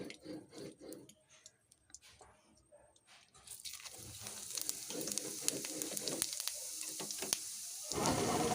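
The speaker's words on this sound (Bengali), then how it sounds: "কড়াইতে কিছুটা তেল দিয়ে দেব দিয়ে লঙ্কা শুকনো লঙ্কা আর কিছুটা জিরে দিয়ে ফোড়ন দিয়ে দেবো" Dried chilli and cumin seeds hit hot oil in a karahi with a sudden crackling sizzle that builds into a steady, bright spatter, following quieter clatter and handling.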